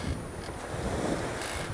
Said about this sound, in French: on prend du vent et une mer croisée